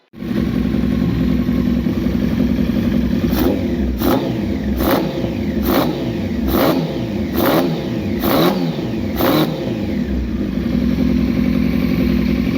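A Honda Fireblade motorcycle engine runs steadily, loud and close, after its carburettors are balanced, with a series of quick throttle blips revving up and dropping back in even succession.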